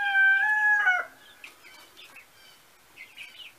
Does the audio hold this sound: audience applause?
no